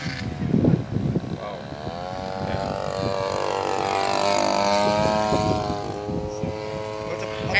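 A model plane powered by a lawn mower engine drones steadily, its pitch rising and falling as it passes overhead outdoors, with people talking nearby.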